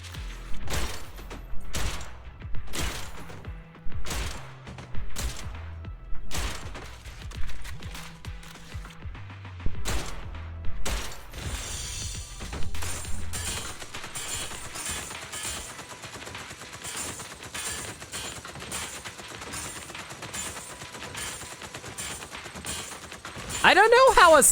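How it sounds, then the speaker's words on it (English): A sniper rifle firing like a machine gun in the video game Zenless Zone Zero: first a series of spaced, heavy single shots, then a long rapid burst with mechanical clicks and rattles beneath it. "I don't know how a sniper rifle turns into a machine gun"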